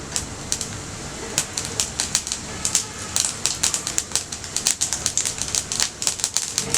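Mustard seeds and cumin sizzle in hot oil in a home kitchen pan, giving rapid, irregular sharp pops and crackles close by over a soft hiss.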